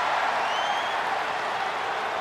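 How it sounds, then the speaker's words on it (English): A dense arena crowd roars and cheers in an ovation for wrestler Bianca Belair at WWE Raw, a steady, loud wash of applause and voices with no break. "Listen to this ovation."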